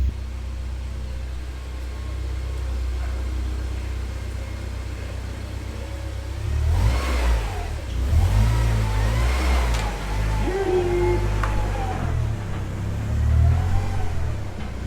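A Honda K-series engine in an FN2 revs up on a dyno, a loud close mechanical roar that climbs and falls in several surges over a steady low rumble.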